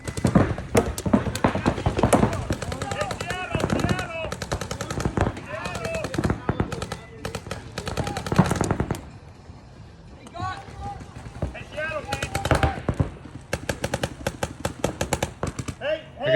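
Paintball markers fire in rapid, rattling bursts during a paintball game outdoors, loud clusters of pops broken by a short lull, with people talking and calling out between shots.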